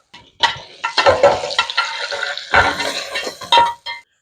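Hot water hits a turkey roasting pan as a spoon scrapes up browned bits, giving short close bursts of sizzling and scraping in uneven pulses.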